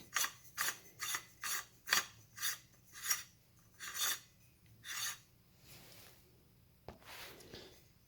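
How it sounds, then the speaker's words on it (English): A finely threaded part of a gel blaster, an MK12 mod1, being screwed in by hand produces a steady series of about a dozen close, rasping scrapes in a regular rhythm that fade into softer rubbing toward the end, with no talking. "It's a long way to screw in. It's a very fine thread."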